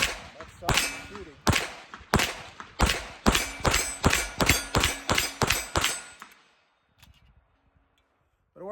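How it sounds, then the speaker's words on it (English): A Springfield Armory SA-35 pistol firing Federal Ballistic Clean ammunition outdoors, about a dozen sharp, loud shots in a quick, steady string, then quiet. "That's a lot softer shooting ammo."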